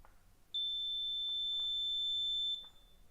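A buzzer alarm on a Raspberry Pi drowsiness detector sounds one steady, piercing electronic tone for about two seconds, starting and stopping abruptly over faint background hum.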